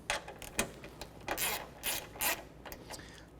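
A ratchet fitted with a 7mm socket snugs a headlight bolt on a 2010-2017 Chevy Equinox, making several short, faint clicking bursts close by, with no talk.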